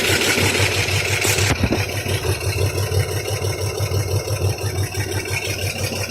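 A Chevrolet Corvair engine runs for the first time, idling loudly and close with a steady low throb after a brief louder burst at the start.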